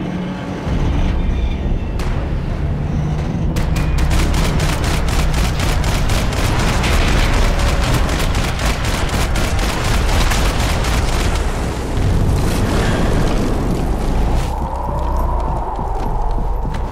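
Rapid bursts of gunfire in the action shooter Max Payne 3, sustained loud volleys of repeated shots forming a dense rattling rhythm over background game sound, continuing for much of the stretch before thinning out near the end.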